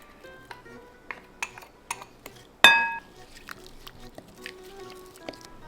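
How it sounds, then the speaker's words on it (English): Panzanella salad with olive oil and red onions being tossed in a bowl, with sparse clinks and taps of a utensil against the dish and one sharp, louder clank partway through, set against quiet kitchen background. "We're gonna mix it all together"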